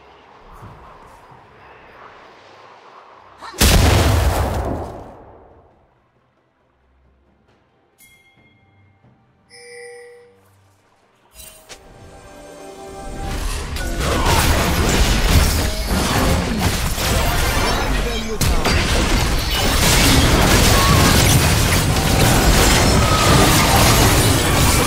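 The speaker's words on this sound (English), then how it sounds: "Red team's turret has been destroyed." A turret in League of Legends is destroyed with a loud, sudden crashing blast and a shattering burst. Quieter game sounds and chimes follow, then a sustained roar of noise builds and continues to the end.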